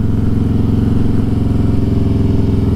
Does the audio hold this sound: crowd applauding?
no